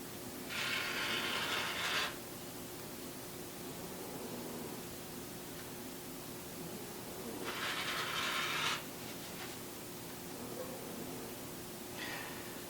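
Fabric being cut for a quilt, giving two clear bursts of crisp cutting noise, each lasting about a second and a half, with a shorter third pass near the end, over a steady low hum and no talking.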